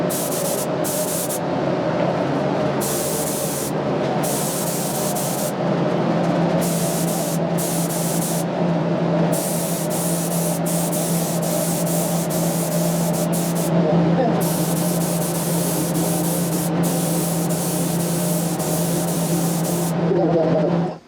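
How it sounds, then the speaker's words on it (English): Spray gun hissing steadily as paint goes onto a guitar body inside a paint booth, a loud continuous airy spray with brief breaks and a low booth fan hum underneath. "let's go to the paint booth and mix up some paint and spray this guy with"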